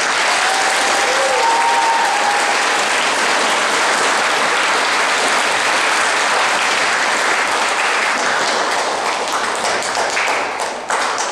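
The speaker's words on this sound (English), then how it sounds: "Let's give the veterans one more round of applause." Sustained, loud applause from an audience honoring veterans at a school ceremony in Siletz, Oregon, steady dense clapping throughout that tapers slightly near the end.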